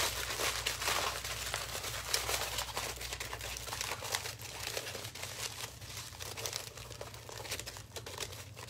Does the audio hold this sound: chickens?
no